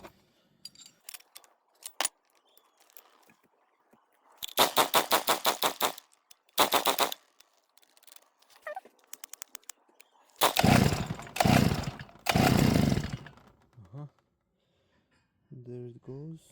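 A small two-stroke grass trimmer engine sputters through several pull-start attempts, then catches in loud ragged bursts at partial choke, revving and dying between short quiet gaps.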